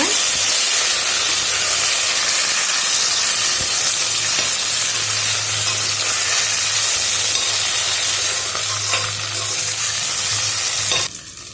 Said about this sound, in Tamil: பச்சை மிளகாயும் ஆட் பண்ணி நல்லா வதக்கி விட்டுக்கோங்க